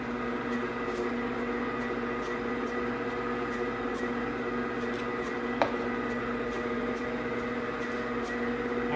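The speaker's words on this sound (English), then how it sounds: "Our mixer, as soon as it senses it's time, it will speed up." Deluxe kitchen mixer beating zucchini bread batter, a steady mechanical whir with a constant motor hum that runs unbroken throughout, fairly close, with one faint click partway through and no talking.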